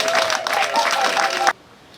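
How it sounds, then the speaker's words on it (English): An audience at a cancer awareness event claps in a quick, dense burst, with a voice over it, and the clapping stops sharply after about a second and a half. "Can we clap ourselves?"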